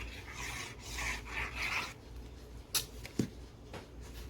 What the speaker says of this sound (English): You just burnish this, get it sealed good